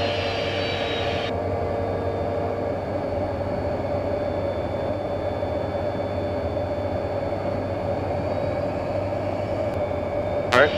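Honda Jet engines whine in a steady, sustained roar during the takeoff roll, heard from inside the cabin with a constant low drone and a faint high tone, with speech over the top.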